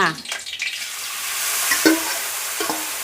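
Noodles tossed and stirred in a wok of hot oil with garlic over a strong flame for Thai rad na, giving a steady loud sizzle broken by several scraping stirs and clinks.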